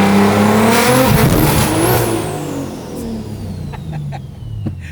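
A BMW M3 engine revs hard and loud, climbing steadily to a high peak, then the note falls away as it settles, with a few sharp pops near the end.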